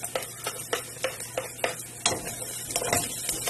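Garlic and ginger sautéing in a pan for chicken sinigang, stirred with a utensil that clicks against the pan in a steady repeated rhythm over a soft sizzle, close and with no talk.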